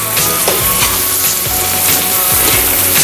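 A burger patty sizzles steadily on a hot grill pan, a loud continuous frying hiss with occasional soft scrapes and clicks, close by and free of talk.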